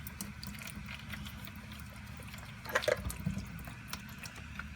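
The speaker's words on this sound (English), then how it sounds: "Now you will be dripping some oil on the car. It's okay. Just let it drain off." Motor oil dripping and draining from a 2009 Nissan Rogue during an oil change, a steady low trickle with faint drips and a couple of slightly louder splashes midway.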